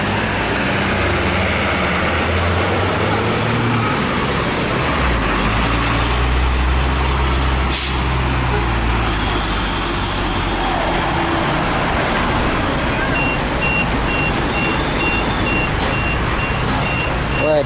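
Traffic jam on a road crowded with buses and cars during the Eid al-Adha return rush, a heavy rumble of idling diesel engines with a repeated reversing beep and passing traffic, dense and continuous with some speech.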